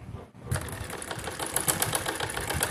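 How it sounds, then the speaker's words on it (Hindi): A sewing machine stitching a blouse piece, a steady fast mechanical clatter starting after a brief pause and running continuously close by. "इसके ऊपर भी हम पलट के सिलाई लगा देंगे।"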